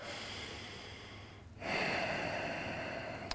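A grappler breathes deeply during a hip flexor stretch, drawing a long audible exhale, then a sharp inhale that grows into a steady airy rush up close, with no talking.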